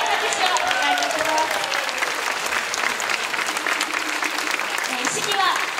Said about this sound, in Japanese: どうぞ温かい拍手をお願いいたします